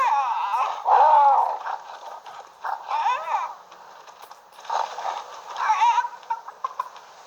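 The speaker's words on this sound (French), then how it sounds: "La poule." A chicken clucks and squawks in several bursts, fairly close and clear, with short pauses between the calls.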